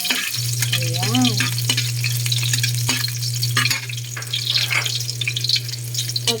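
Garlic frying in a pan for breakfast, a loud continuous sizzle with stirring scrapes and a steady low hum beneath.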